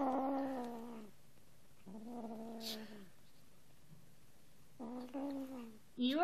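A cat lets out several drawn-out, wavering yowls separated by short quiet gaps, close and fairly clear.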